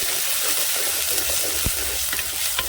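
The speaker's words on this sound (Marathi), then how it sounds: "मसाले सगळे याच्या व्यवस्थित असे भाजले पाहिजे मिक्स झाले पाहिजे" Masala spices, Kitchen King blend with homemade red chili powder, sizzle and fry in a pan over a village wood-fired stove, a steady soft crackling hiss with faint stirring clicks and no voices.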